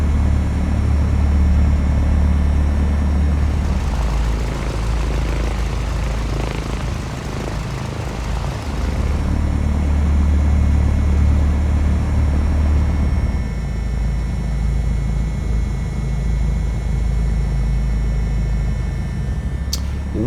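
A Piper PA-38 Tomahawk's engine drones loudly and steadily in the Prepar3D flight simulator as the plane rolls down the runway at Key West International, a constant low rumble with a brief swell midway.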